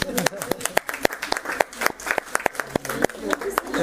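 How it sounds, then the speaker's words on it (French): At a hypnosis show, an audience claps, giving a brisk run of sharp claps at moderate distance, mixed with voices talking. "Je crois qu'on peut applaudir."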